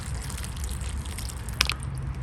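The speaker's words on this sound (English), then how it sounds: "flushing the water through" Water flushing through an orchid pot to rinse out crystallized salts, a soft steady close trickle and dribble with a brief brighter splash partway through.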